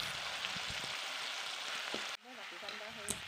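Chopped tomatoes frying in hot oil with onion in a pan, a steady close sizzle with scattered stirring scrapes, the hiss softening near the end as faint voices come through.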